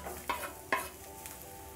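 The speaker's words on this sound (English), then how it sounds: "because it's hot, I'm going to add onions" Onions dropped into a hot pan over a medium flame, giving two brief clattering impacts followed by a faint, steady sizzle, quiet and close with no talking.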